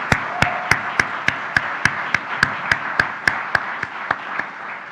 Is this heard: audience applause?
yes